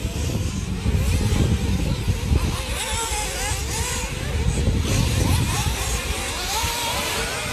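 A race car at the Agathoise race passes close to spectators, its engine a loud sustained roar with shifting pitch across the whole stretch, with no voices heard.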